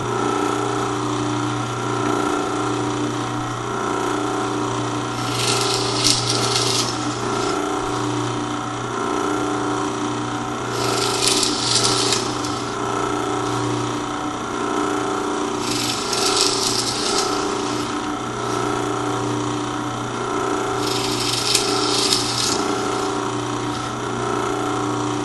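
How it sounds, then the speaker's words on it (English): Drill boring holes in wooden boards for a Halloween prop, a constant motor whine overlaid by four short bursts of rasping bit-bite into the wood at roughly even intervals. "So go ahead and get those drilled out"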